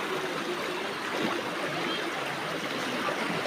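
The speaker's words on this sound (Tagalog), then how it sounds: "Ang lakas ng agos ng tubig mga idol," Steady, strong rushing water fills the whole clip, a continuous broadband flow like a fast river current, close and loud with no pauses.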